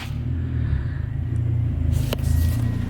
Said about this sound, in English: Lovely 5-cylinder noise.